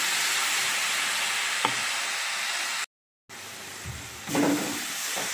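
Spice-washing water poured into a pan of frying small fish, bitter gourd and aubergine sets off a loud, steady sizzle, broken by a brief gap, then a stirring clatter near the end.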